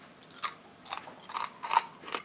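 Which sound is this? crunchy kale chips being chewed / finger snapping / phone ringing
crunchy kale chips being chewed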